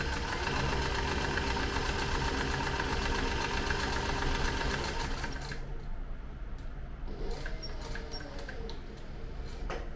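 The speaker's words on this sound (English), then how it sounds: "I'm gonna just sew across the bottom. Do a couple of back stitches, quickly sew down the edge here." An electric sewing machine hums steadily as it stitches across the bottom of a leather zippered tote bag, a loud continuous drone that eases and thins out halfway through, with faint clicks after.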